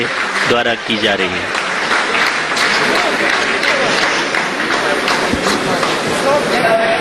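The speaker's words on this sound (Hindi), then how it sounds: "आप इस तालियों के गड़गड़ाहट को सुन सकते हैं" ISRO scientists break into sustained applause after the lander's descent phase during the Chandrayaan mission, a dense continuous clapping roar heard under a talking voice.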